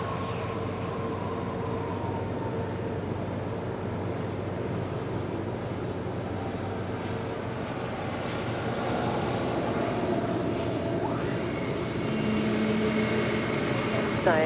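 A jet airliner bound for Lima roars steadily through a takeoff roll at Los Angeles International Airport, a broad continuous rumble that slowly builds in loudness, with a faint rising whine near the end.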